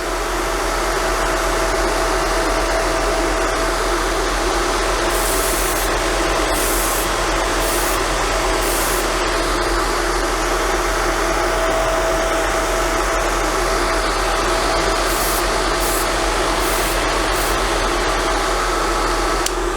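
Hair dryer blowing steadily on aerosol primer paint freshly sprayed onto a model locomotive, a loud continuous close-up rush of air that runs unbroken from start to finish.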